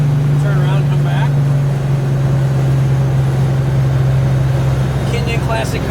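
A 1965 Chevrolet Chevelle with a 396 big-block V8 rumbles along while driving, a steady low engine drone running continuously and close, with faint voices briefly in the background.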